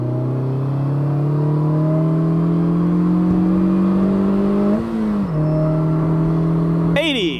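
A 2022 Polaris Slingshot SLR accelerates hard on a highway from 40 to 80, its engine note climbing steadily and loud, dipping briefly at a gear shift before rising again, then a sharp upward whine at the end.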